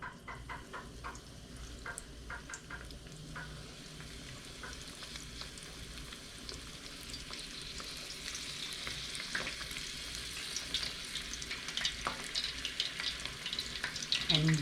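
Shrimp for crispy butterfly fried shrimp go into a pot of hot oil, a steady close bubbling crackle of deep frying that grows fuller and louder as more pieces drop in, with no talking.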